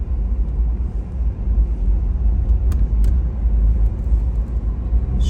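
A 1994 Toyota FZJ80 Land Cruiser cruises along with a steady low engine and road rumble, smooth and even throughout, heard from inside the vehicle with no talking.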